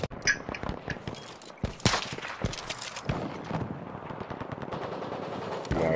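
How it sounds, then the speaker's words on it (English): Heavy machine gun fire in a shooter video game, rapid loud bursts of automatic shots with brief pauses between volleys, close and dominant, with no talking. "I love the heavy machine guns"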